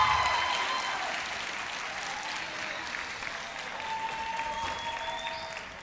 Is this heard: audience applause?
yes